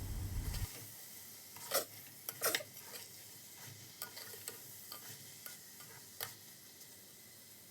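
Rice is stirred into fried prawn masala for prawn biryani, with soft scraping strokes and occasional clinks of a spoon against the pot over a faint steady sizzle.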